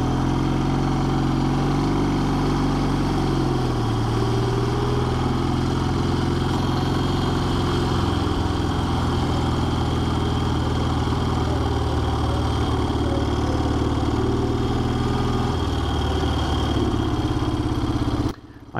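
Vehicle engine idling and rumbling steadily while driving slowly into an army barracks at a Belgian military base open day, a continuous low mechanical drone with no talk, cutting off at the end.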